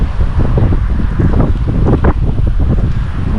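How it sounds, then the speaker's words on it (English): Stiff wind gusting across a fishing pond, rough rumbling buffets on the microphone that rise and fall over a few seconds without talk. "the wind is running right down this thing too"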